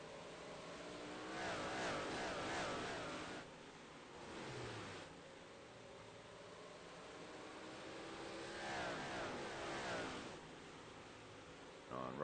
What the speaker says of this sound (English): Race car has left the track.